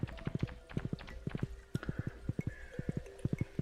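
Hooves clip-clop on hard ground in a video game as a horse walks at an even, close, clearly spaced pace of two- and three-beat groups.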